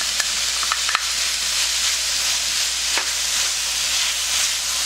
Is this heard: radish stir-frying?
yes